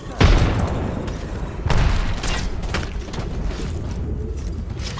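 Gunfire crackles through a squad firefight in a video game, with sharp bursts of shots around the half-second and near two seconds, then a steady stream of clatter and booms.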